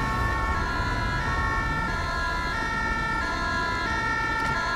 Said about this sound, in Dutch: En als de ambulance mij wil helpen, zou dat heel fijn zijn.